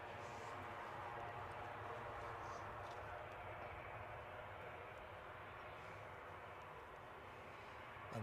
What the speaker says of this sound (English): This A320 on its way to Birmingham